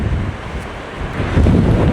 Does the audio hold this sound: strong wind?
yes